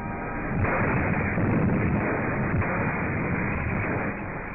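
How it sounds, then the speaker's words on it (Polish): A deep, sustained blast roar swells and rumbles for several seconds, heavy and muffled, with no voices over it. "Wybuch przypomina katastrofę kosmiczną."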